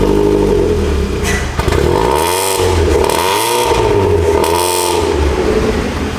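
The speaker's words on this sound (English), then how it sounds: "Miatas are just loud" Loud Mazda Miata engine revving close by, rising and falling in several sweeping pulls with a raspy, crackling exhaust tone and no talking over it.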